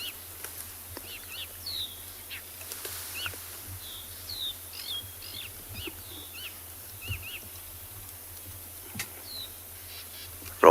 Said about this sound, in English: lovely evening sounds. Drongos and crickets mainly